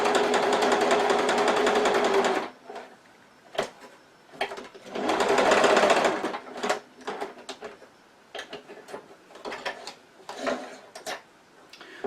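A sewing machine top-stitches a fabric bag pocket for a purse, running in two loud, rapid bursts with quieter clicks and handling sounds between them.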